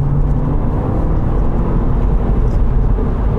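A Mini Cooper S engine roars steadily and loudly while driving hard in manual mode, a continuous dense drone with no gaps.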